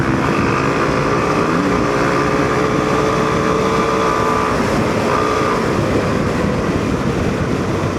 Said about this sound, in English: As soon as you open the throttle, it starts to pull and keeps cooling consistently.